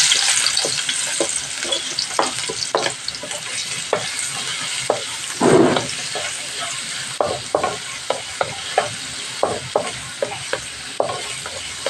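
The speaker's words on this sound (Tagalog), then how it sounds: "nagpainit na po tayo ng oil, and then isasabay na natin si luya at si bawang" Ginger and garlic frying together in hot oil in a large wok, a steady close sizzle broken by frequent sharp stirring scrapes and clinks of the utensil against the pan.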